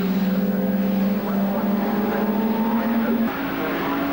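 Aston Martin race cars pass on a circuit during an owners' club race, their engines droning loud and steady with a slight pitch shift as they go by.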